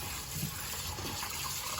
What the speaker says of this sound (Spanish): Las voy a lavar bien para quitarle un poco el almidón